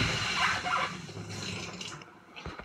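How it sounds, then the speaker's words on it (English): Water from a bucket pours out of a window onto a roof, a brief splashing wash that is fairly faint and spreads across the surface. "I've got my bucket of water here and I'm going to pour it out of this window here"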